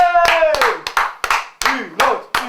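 Clapping at a small concert: a handful of sharp, close handclaps in an uneven rhythm, with a voice sounding between the claps.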